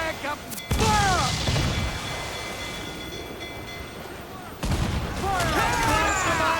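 Naval cannons boom in bursts during a pirate ship battle in Assassin's Creed, heavy blasts at the start and again near the end with lingering rumble, while shouting voices carry over the action.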